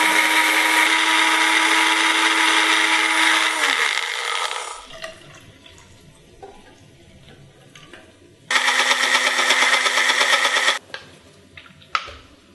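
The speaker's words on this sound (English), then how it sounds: "I'm going to blend this black sesame seeds. Blend this until smooth." A blender whirs loudly while blending black sesame seeds for porridge, running steadily for about five seconds, then stopping during a quieter stretch with light clatter, before a second loud burst of blending and a few small knocks.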